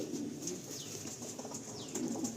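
A pair of Andhra pigeons, a white-bodied cock and hen, give soft low cooing with a brief flutter of wings, close by and fairly quiet against steady background noise.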